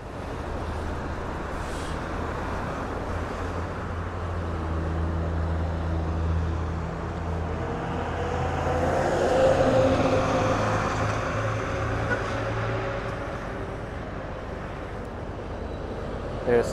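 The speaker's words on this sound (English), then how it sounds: "21st Street is one of the main streets in Astoria for motor vehicle traffic" Steady motor vehicle traffic rumbles along 21st Street in Astoria, Queens, with engine drones and passing vehicles swelling to a louder pass near the middle and a brief sharp knock at the end, no talk heard.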